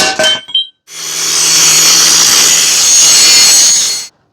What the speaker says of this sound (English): I got a bunch of grinding to do